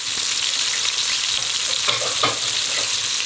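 Fish frying in a pan gives a steady, bright sizzle of hot oil throughout, close and even, with a few louder crackles and spatters partway through and no voices.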